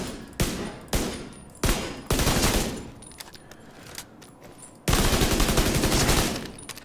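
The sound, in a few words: automatic rifle gunfire in the video game The Division 2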